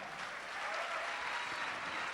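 Congregation applause in a church service, a soft, distant, continuous wash of many hands clapping at low level without distinct individual claps.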